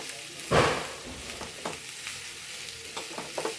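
Ingredients wilting in a hot pan for a Malayalam-style mackerel and prawn pollichathu, with a soft sizzle and a few stirring scrapes, one louder stir near the start, close and unaccompanied.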